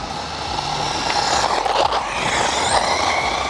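A cheap brushless RC car, a knock-off of the Arrma Outcast, drives past with a rising whine and tires scraping and rattling over rough ground. The sound is loud and close, with bursts of motor revving.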